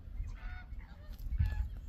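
Flamingos call from a flock near reservoir water, a few nasal honking cries over low rumbling wind, moderately distant.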